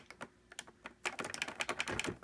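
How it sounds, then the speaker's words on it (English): A Mad Catz analog racing wheel's gear shifter clicks as it is moved, sparse plastic ticks at first and then a quick run of rapid clicks, close and crisp with no voice. "You can hear like a little clicking noise."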